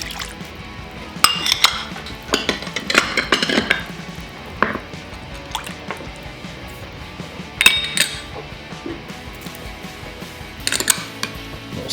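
Garlic, sugar and oil for a steak marinade being mixed in a large bowl, with irregular clinks, taps and wet scraping of utensil against the bowl, close and intermittent.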